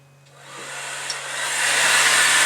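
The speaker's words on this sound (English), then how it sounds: "you want to dry the roots first, just a little bit" A hair dryer blows on hair roots while waves and curls are being styled, making a continuous airy roar that grows slowly louder over a couple of seconds, with no talking.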